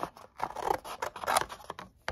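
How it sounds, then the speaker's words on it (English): Scissors snipping through cardboard down its middle seam, several short rough cutting strokes close up, alone without talk. "I'm going to cut this right here down the middle here"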